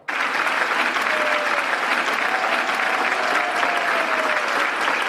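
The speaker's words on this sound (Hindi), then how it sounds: "तो आइए तालियों की गड़गड़ाहट से इन बालकों का प्रोत्साहन बढ़ाएं" An audience of school families gives thunderous applause for a children's drama about Dhruva Maharaj, clapping starting abruptly and then holding loud and dense, with a faint tonal sweep drifting beneath the crowd.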